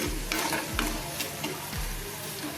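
Chopped onions with salt fry and are stirred in a pan for a potato bhaji, a constant close sizzle broken by a few scraping strokes of a spatula, no voices.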